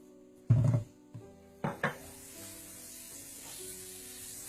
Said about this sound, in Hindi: सबसे पहले आप मक्खन गरम कर लें।